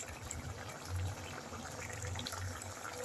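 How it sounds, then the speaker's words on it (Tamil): Tamarind water pours steadily into a pot of sambar, a soft continuous trickling and splashing that stays low and even throughout. "இந்த ஸ்டேஜில் நம்ம இப்போ புளி தண்ணி சேர்த்துக்கலாம்"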